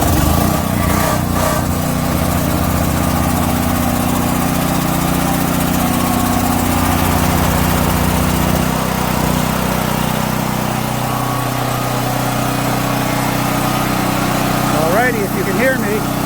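A DuroMax generator engine runs loud and steady right after starting, with a continuous mid-low drone and a faint voice briefly heard under it.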